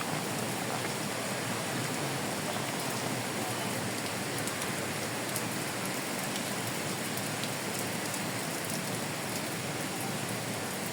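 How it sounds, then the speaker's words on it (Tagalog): Heavy rain pours steadily around a pagoda shelter in a botanical garden, a dense, loud, unbroken hiss of drops on roofs and foliage with no voices over it. "Hindi kayang lusubin yung ulan. Malakas. Malakas masyado."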